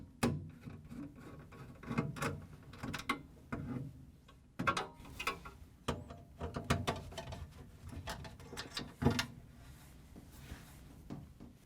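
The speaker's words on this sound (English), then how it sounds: "We're going to use a Phillips screwdriver to take the screws out." A Phillips screwdriver works screws out of a GE ice dispenser assembly, producing close, faint irregular clicks, ticks and scraping taps in short bursts.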